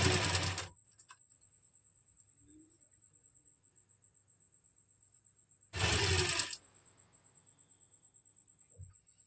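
Sewing machine stitching a kameez seam, two short bursts of whirring needle action separated by a long quiet stretch with a faint steady tone in the background.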